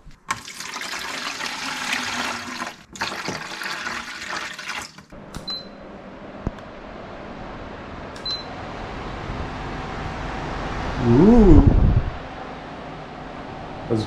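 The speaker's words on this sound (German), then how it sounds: "Wasser befüllen und dann schauen wir mal." Water filled into the tank of a humidifier: a loud rushing, gurgling pour for the first few seconds, then quieter handling clicks and a low swelling rumble near the end.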